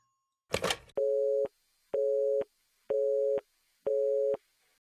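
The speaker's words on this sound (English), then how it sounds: "Who could be calling at this hour?" In the Dread Weight horror video game, a phone call sound plays: a brief rustle and click, then four evenly spaced, steady electronic telephone tones, each about half a second long with equal gaps, clean and close.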